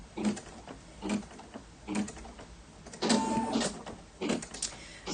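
A home single-needle embroidery machine stitches the feet of a bird design in short, rhythmic mechanical bursts of rapid needle clatter, with brief quieter pauses between runs and no talking.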